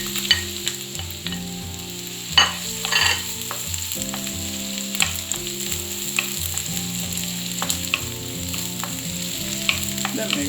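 Ginger and garlic frying in a pan for Sri Lankan chicken fried rice give a steady, close sizzle with occasional stirring scrapes and taps, over soft background music.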